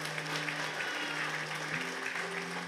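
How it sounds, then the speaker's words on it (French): An audience at the Miss NC 2020 pageant applauds a contestant, a steady, moderately distant wash of clapping with a faint tonal hum beneath and no clear talk. "On peut l'applaudir bien fort"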